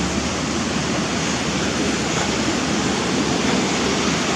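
Spearfish Creek in Spearfish Canyon rushes along in a steady, dense, loud wash of flowing water, unbroken and with no voices.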